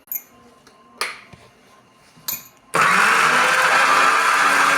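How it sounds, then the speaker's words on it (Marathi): Mixer grinder switched on to grind masala for paneer bhaji in a home kitchen, starting abruptly after a few clicks and knocks and then running as a loud, steady whirring roar with no talk over it. "आता मी फक्त मिक्सर लावतो"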